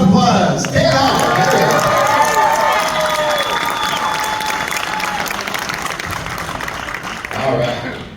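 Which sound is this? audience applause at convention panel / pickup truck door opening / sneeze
audience applause at convention panel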